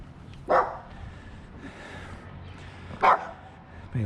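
A dog barks twice outdoors, a few seconds apart, single sharp barks at moderate distance over quiet background.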